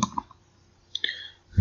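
Mouse clicks on a website button: a couple of sharp, quiet clicks near the start and another around the middle, with a soft thump at the end, in an otherwise quiet room.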